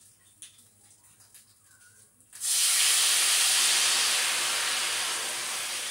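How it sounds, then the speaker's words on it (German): After a quiet stretch with light clinks, a pan of grilled chicken drippings is deglazed with white wine and bursts into a loud, steady hissing sizzle that carries on to the end. "Die löschen wir ein bisschen Weißwein ab."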